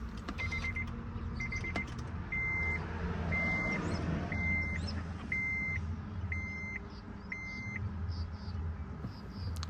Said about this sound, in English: you're going to turn on the car.